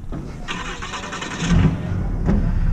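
A truck engine cranks and catches during a steer roundup, with a short starter whine followed by a rising, louder engine rumble settling into a rough idle, close by.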